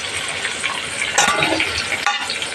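Tomato and chili frying for a simple cabbage curry, a steady close sizzle with scraping stirs and a sharper burst midway, no voices.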